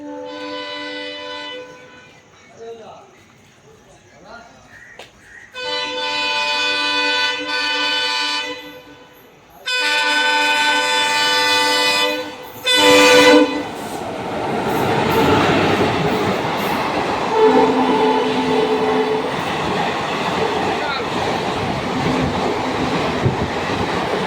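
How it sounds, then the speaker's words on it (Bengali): The Haldibari–Kolkata Express runs past on the rail line with horn blasts, starting as sustained toots and then giving way to a loud, close, continuous roar of rolling wagons. "হলদিবাড়ি কলকাতা এক্সপ্রেস।"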